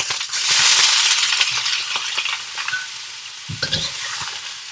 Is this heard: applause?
no